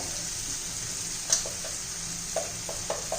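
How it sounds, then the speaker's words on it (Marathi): Onion-garlic masala sautéing in a pan for raw papaya bhaji, a steady hiss of frying with a few spoon scrapes and clinks, close and moderate in level. "छान मसाले आपण परतून घेऊ"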